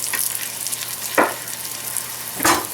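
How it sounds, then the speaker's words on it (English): Duck breast pan-frying in oil and butter sizzles steadily, with two louder bursts of spattering and no voices. "we're gonna pan fry them"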